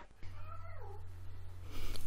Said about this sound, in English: Fucking cat.